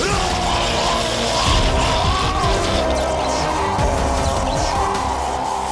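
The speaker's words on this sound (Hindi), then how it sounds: "ये चीखें सुनाई दे रही हैं।" In a Hindi TV fantasy drama, several people scream and yell at once, a loud, sustained wash of anguished cries layered over a dense dramatic soundtrack.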